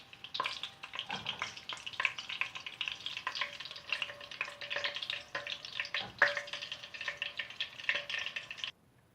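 Brinjal (eggplant) frying in hot oil gives a steady, bright crackling sizzle with scattered pops. It holds close and fairly even for about nine seconds, then cuts off abruptly.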